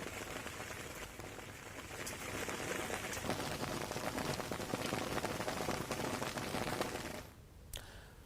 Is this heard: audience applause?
no